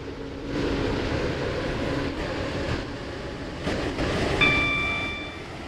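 A 1979 Class 508 electric train runs a waterline service in the Roblox rail game SCR, producing a steady rumbling drone and a brief high tone as it approaches a station.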